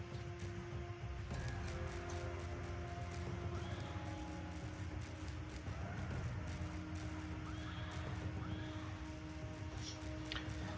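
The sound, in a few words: cavalry horses neighing and galloping in a video game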